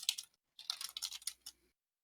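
Rapid computer keyboard typing in two quick bursts separated by a short pause, crisp clattering keystrokes with a mechanical, teletype-like rhythm, close and fairly quiet with no voices.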